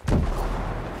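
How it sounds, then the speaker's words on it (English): A frag grenade explodes in the Ghost Recon Breakpoint video game: one sudden, loud boom that rolls into a long, low rumble, with no voices. "Throwing a frag."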